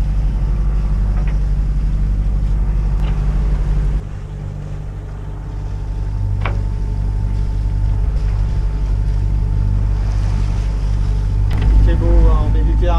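A motor drones steadily as a sailboat motors across a calm, windless Mediterranean sea off Mallorca between Sóller and Andratx, with wind rush and water wash around it for the whole stretch.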